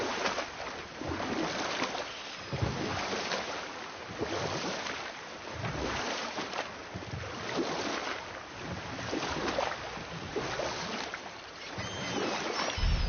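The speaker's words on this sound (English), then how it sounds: "Keep rowing towards the statues of the oarsmen, then thread past between them." Wooden oars dip and pull through open water in God of War, a soft rhythmic splashing repeating every couple of seconds, faint and steady under light ambient wind with occasional bird calls.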